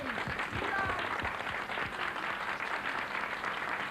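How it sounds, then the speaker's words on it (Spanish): Deputies and senators of the Spanish Cortes give a dense, sustained ovation in the parliament chamber as King Juan Carlos and Queen Sofía enter, with voices mixed into the applause. "Los reyes de España, don Juan Carlos y doña Sofía, entraron en el hemiciclo arropados por una gran ovación de los diputados y senadores de las nuevas Cortes"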